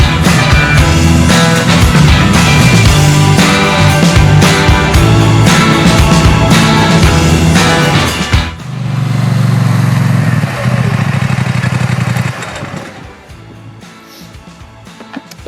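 A Polaris Sportsman 1000XP quad runs loud and steady for about eight seconds, then shifts into a lower, droning engine note. Near the end it fades to a quieter idle.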